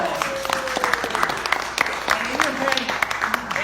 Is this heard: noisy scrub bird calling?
no